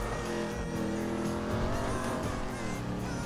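A Dominator muscle car driving in GTA V, its engine droning steadily and loudly with a continuous revving tone throughout.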